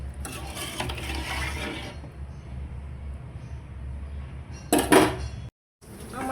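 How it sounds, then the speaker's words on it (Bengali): A cooking pot being stirred continuously so the food won't stick and form lumps, giving a steady scraping and clinking under a low hum, fading midway before a louder scrape near the end. "এটা লাড়তেই থাকতে হবে, নাহলে লাগা যাবে।"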